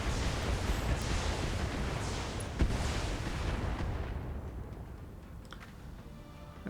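Heavy weapons fire on an enemy mech in the video game BattleTech, a dense rumbling barrage of booms with a sharper crack midway, loud at first and then fading into quieter residual noise.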